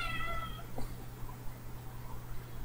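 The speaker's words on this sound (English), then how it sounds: "He's meowing at me." A pet cat meows indoors, a short clear cry at the start followed by quieter faint sounds against a low steady hum.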